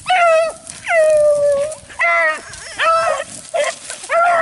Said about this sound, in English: Definitely get some footage of the dogs chasing the rabbit.